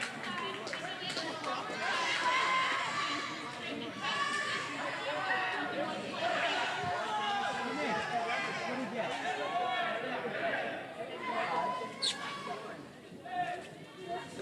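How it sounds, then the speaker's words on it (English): Spectators at a 1990 high school boys' and girls' swimming and diving meet, East versus West, react with a lively rumble of chatter, shouts and cheers echoing in an indoor pool, steady throughout with a few sharper peaks. "you can hear the crowd's reaction to that one"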